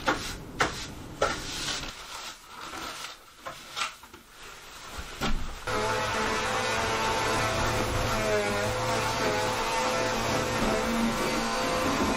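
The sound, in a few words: large vacuum running during attic insulation removal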